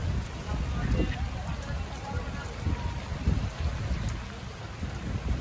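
Heavy rain pours steadily by the sea in Chittagong, making a dense, continuous hiss with a low rumble beneath and faint voices in the background.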